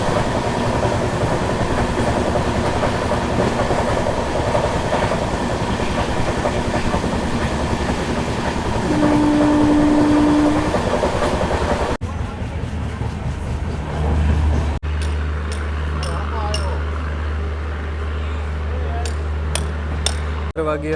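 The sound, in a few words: passenger train running on rails, Rajkot to Kanalus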